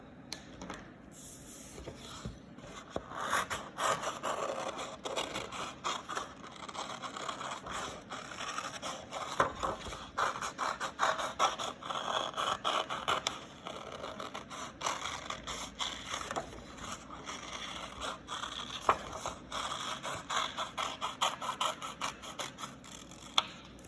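Scissors cut a freehand pumpkin shape out of paper from a repurposed book, giving a long run of crisp snips and paper crinkles at close range with irregular rhythm and no talk.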